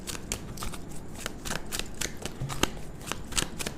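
A tarot card deck being shuffled close up, with a steady run of crisp riffling card snaps and flutters, no voices.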